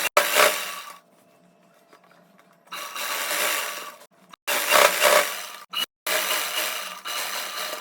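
A sewing machine runs in several loud bursts of stitching as elastic is sewn around fabric, with brief pauses between runs and no talking.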